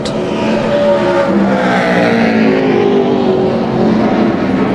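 NASCAR Nationwide Series race car at Bristol Motor Speedway on a 2010 qualifying lap, its engine roaring loud and steady throughout with a rising, sweeping pitch as it runs the banked track, no talk over it.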